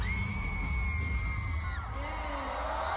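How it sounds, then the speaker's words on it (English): Fans at a world tour concert in London scream and shriek loudly and continuously, a dense high-pitched crowd roar with sustained piercing cries and whoops filling the whole stretch. "Obligatory fans screaming their head off"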